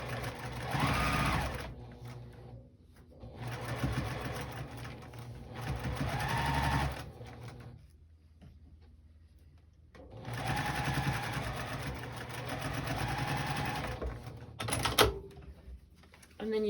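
A sewing machine stitches a row of a wonky star quilt block in several steady runs, some slower than others, with quiet gaps between them. A louder clunk comes near the end, close and alone without talk.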